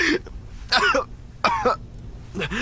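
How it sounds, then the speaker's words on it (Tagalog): A person coughs in three short, throaty bursts spaced about half a second apart, close and clear, with the last coming right at the end. "Inuubo lang ako."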